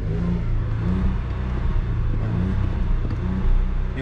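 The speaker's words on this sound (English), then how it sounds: "Okay, start it up. 3-cylinder engine, make a little bit of a vibration inside the coupe because it's not so balanced." A Skoda Fabia III with the 1.0 MPI three-cylinder engine, parked and stationary, runs with a deep, steady, slightly uneven thrum. Gentle swells in engine speed rise and fall close by, with no voices.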